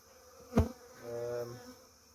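Honey bees buzz during a hive cut-out, a short, close burst of droning hum after a sharp knock, then fading.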